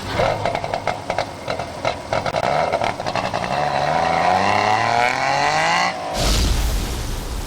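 A buzzy, high-revving two-stroke car engine in a video game winds up steadily in pitch over several seconds, then a sudden loud low burst takes over near the end.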